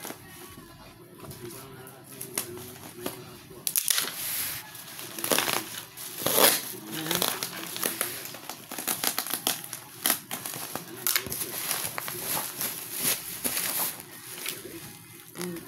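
Cardboard carton packaging crinkling and crunching as it is cut open with sharp scissors during an unboxing, irregular close crackles and snips with someone talking over them.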